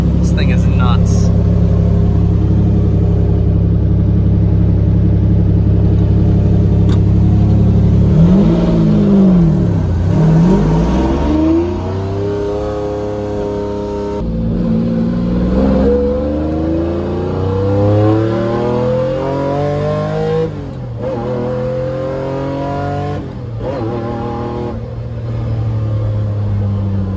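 A 1996 Lamborghini Diablo SVR rumbles at a steady idle from inside the cabin, then revs and accelerates hard through rising and falling gear pulls, loud and close, with people talking now and then.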